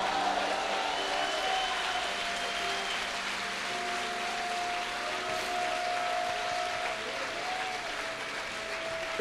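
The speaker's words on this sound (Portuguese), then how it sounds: "levanta a mão e dá um aplauso ao Senhor" Church congregation applause at a Sunday service, a sustained wash of many hands clapping, even and continuous across the whole stretch, with no talk over it.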